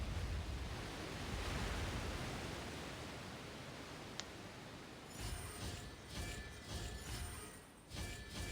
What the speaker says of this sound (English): The water's flowed into the groove, and now the statues have lit up.